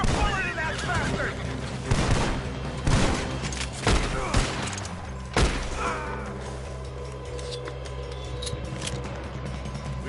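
Repeated gunshots in a Red Dead Redemption 2 shootout, sharp cracks and booms at irregular intervals amid rattling mechanisms, with a voice talking between the shots.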